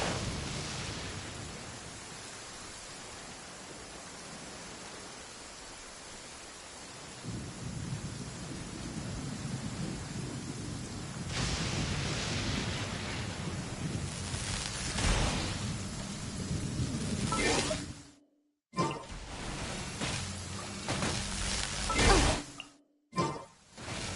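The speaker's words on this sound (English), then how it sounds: "Many people dread the sound of thunder." Thunder and rain in the Genshin Impact video game: loud, steady rainfall with deep rumbling thunder building and rolling across the sound, cut by a few abrupt silent gaps near the end.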